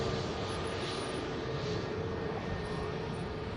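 An EasyJet airliner at Manchester Airport gives a steady, broad engine roar with a faint whine, constant and fairly distant, with no talking over it.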